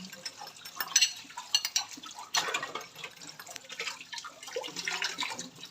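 Dishes and plates being washed in a home kitchen, with dripping water, clinks of cutlery and pots, and scrubbing heard up close at a steady, busy pace.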